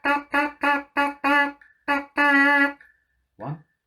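A trumpet or cornet player's lips buzz a rhythm, a string of short buzzy pitched pulses followed by one longer held note, close and fairly loud, then a brief soft sound at the end.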